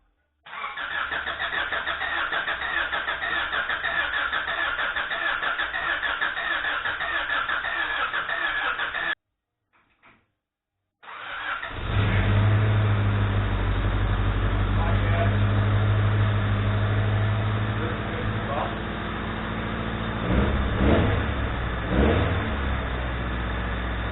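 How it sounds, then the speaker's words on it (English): A Honda Del Sol engine cranks steadily for several seconds with a rhythmic starter whir, pauses briefly, then fires up and settles into a loud idle before revving, heard close and alone. "So I'll be cranking it now to get some oil pressure build up, and after that we're going to try and start."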